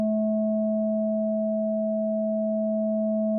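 A steady synthesized sine tone pitched at A432, holding level and unchanging on its own, with faint harmonic overtones above it, used to build Tibetan singing bowl harmonics.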